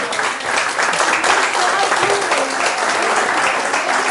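An audience at a conference in Bosnia applauds a lady with steady, dense clapping that fills the whole stretch at an even, fairly loud level.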